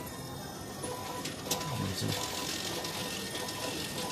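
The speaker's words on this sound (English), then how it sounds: "It's this machine here, money exchange machine." A currency exchange machine in Japan running, giving off a steady mechanical whirring with ratchet-like clicking over a busy background hum.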